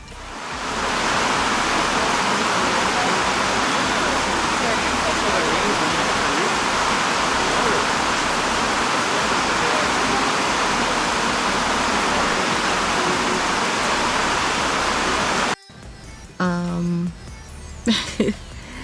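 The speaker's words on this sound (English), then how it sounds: "It's raining," Steady rain falls outdoors as a loud, continuous broadband hiss lasting most of the stretch, then cuts off abruptly to quieter sounds where a voice briefly talks.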